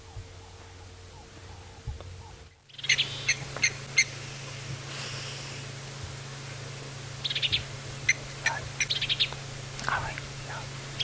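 Birds chirping in the bush at sunrise on a safari drive, with scattered sharp calls and tweets over a low steady hum, clearer after a brief cut.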